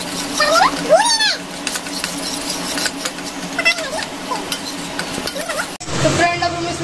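Pasta stirred and sautéed in a pan for white sauce pasta, with a steady sizzle and scraping stirs under a child's and adult's voices talking, close and fairly loud.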